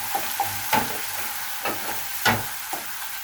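Onion paste with chopped green chili frying in oil, crackling and sizzling up close, broken by a few quick spatula scrapes.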